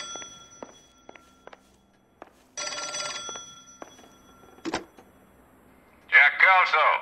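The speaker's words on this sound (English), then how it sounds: "A phone is a ring-a-dingin'." An old-fashioned telephone bell rings in the L.A. Noire video game, several trilling bursts with a clunk and footsteps between them, followed by a voice speaking close by.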